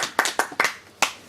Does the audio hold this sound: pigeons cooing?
no